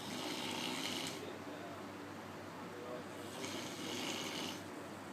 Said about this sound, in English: you can snore louder than that